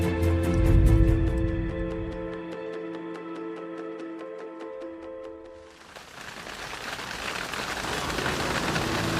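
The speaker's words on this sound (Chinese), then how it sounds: "哇，下雨。" Steady rain falls outdoors as a broad, continuous hiss, loud and close, starting after a sustained tonal sound fades and filling the rest of the passage without voices.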